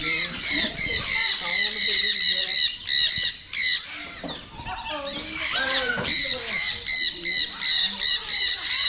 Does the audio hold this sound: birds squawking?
yes